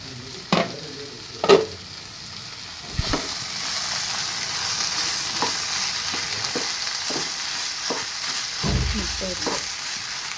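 Ivy gourd and egg thoran frying in a pan on a low flame gives a steady soft sizzle, with a few clinks and scrapes of a spoon stirring at the start.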